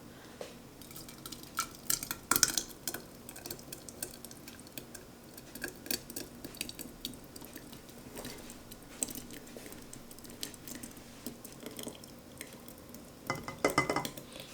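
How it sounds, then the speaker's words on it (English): Hot homemade strawberry jam is poured into a wide-neck glass jar, giving soft irregular glugs and drips with occasional clinks of a pot or utensil against glass. "What I'm going to do is pour this in here and then put it in a sink full of cold water."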